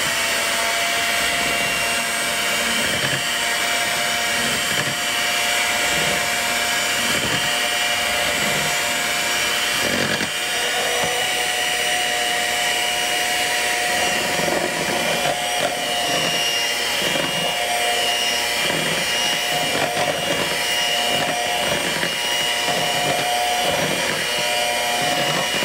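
An electric mixer whirs loudly and continuously while beating lemon icebox pie filling, a steady buzzing drone with slight pitch wobbles as the beaters move through the bowl.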